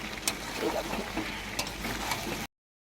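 Fried potatoes are stir-fried with meat in a pan, giving a close, steady sizzling hiss with a few sharp scraping stirs before it cuts off abruptly.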